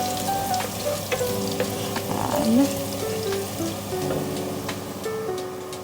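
Chicken fries in a pan for arroz caldo, a steady sizzle with occasional wooden-spoon stirring scrapes, close and fairly loud throughout with no talk.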